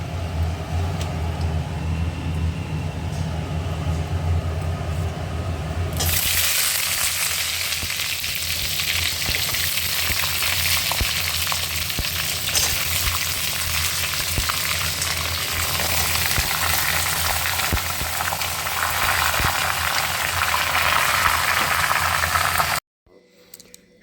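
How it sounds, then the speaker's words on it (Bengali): Mixed vegetables tossed and stirred in a hot kadai for a Bengali chhyachra dish, a steady loud sizzle starting abruptly after a quieter hum, with scraping stirs throughout, then cut short at the end. "সমস্ত সবজিটা দিয়ে দিলাম কড়াতে ভালো করে উপর নিচ করে নিচ্ছি এখানে"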